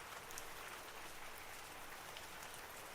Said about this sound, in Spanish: el agua de la lluvia me escurre por la frente, por las mejillas